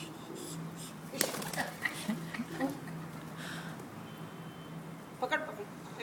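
Pigeons coo softly in short low phrases among household noise, with brief flutters and taps, while people talk nearby and a child plays with the birds.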